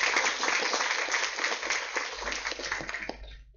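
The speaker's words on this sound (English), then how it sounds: "please give him a big round of applause" Audience applause at a university hackathon event held with the American Telugu Association, a dense, steady wash of many hands clapping at moderate level that thins out and stops near the end.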